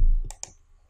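Two quick mouse clicks, close and distinct, sound as an option on a Reliance gas agency dealership website is selected, followed by near silence.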